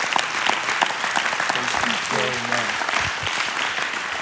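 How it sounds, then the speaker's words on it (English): An audience at a church talk on a Christ-centered home claps in appreciation for someone speaker, a dense, lively patter of hands. A voice briefly rises over it midway. "Can we give her a hand clap of appreciation?"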